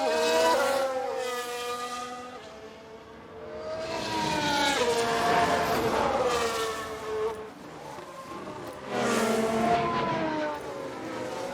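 Race cars in the F1 Manager 22 video game drone past on track, engines rising and falling in steady high-pitched swells as cars approach and recede, with no talking over them.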